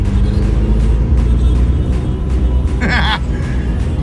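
A Suzuki Samurai with a swapped-in 1.6L 16V engine is driven, with a steady, close engine rumble throughout and a brief higher squeal near the end.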